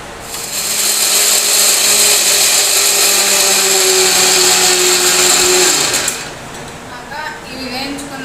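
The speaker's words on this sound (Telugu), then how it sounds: "మిక్సీ పట్టుకోవాలి." A mixer grinder blends fried tomatoes and green chillies in a loud, steady whir for about six seconds, then cuts off abruptly and leaves quieter kitchen noise behind.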